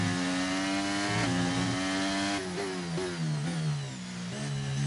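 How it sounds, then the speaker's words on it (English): A Honda Formula 1 engine in the F1 23 racing game revs hard and alone, a loud, high-pitched whine that climbs and drops through quick gear changes. "God, I love the sound of that Honda engine."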